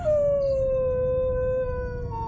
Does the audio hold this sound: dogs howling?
yes